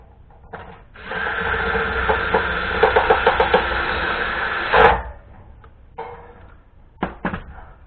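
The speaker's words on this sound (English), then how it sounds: "They are self-drilling screws, so you can do that and shoot one through there." Power drill driving self-drilling screws through sheet metal tin flanges, a loud continuous whine of about four seconds with stuttering bursts near the end, followed by a few short knocks and handling clatter.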